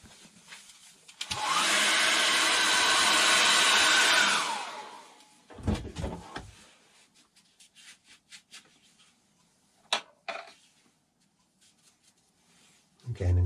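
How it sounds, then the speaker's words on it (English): A hairdryer run over wet acrylic paint on a landscape painting, a loud steady blowing roar for a few seconds that then cuts off, followed by soft handling and brush noises nearby. "I'm just going to run the hairdryer over that now."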